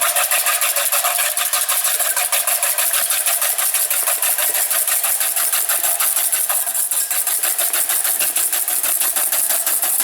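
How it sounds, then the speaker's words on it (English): Whipping cream is whisked until foamy, a rapid, steady mechanical whirring and rattling that runs loud and unbroken from start to finish, with no talking. "take 3/4 cups of the whipping cream first. And you're going to whisk that until it starts to foam."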